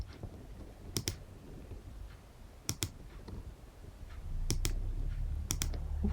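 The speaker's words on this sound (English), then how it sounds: "just clicking and clicking and clicking on these grey bits here" Computer mouse clicks while editing in XTool Creative Space software, sharp paired clicks in small bursts spaced across the stretch, close and crisp over a low steady background hum.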